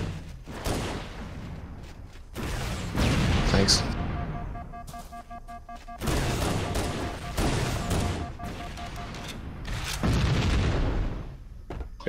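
Gunfire and booming explosions from the video game Halo: Combat Evolved in co-op play, bursts of shots and heavy blasts coming in waves, loud and close, with people talking over the action.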